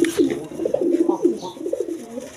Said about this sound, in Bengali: দেখেন সামনে একটা মাদি, পিছনে একটা নর, ছটপটা কবুতর